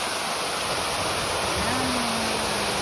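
Water from a fountain at Plaza de España in Madrid rushes in a steady, loud, continuous roar, close by, with a faint voice briefly audible underneath.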